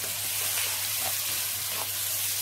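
Chopped onions sautéing in a pan with salt and pepper give off a steady, loud, close hiss of sizzling that carries on without a break, with no one speaking over it.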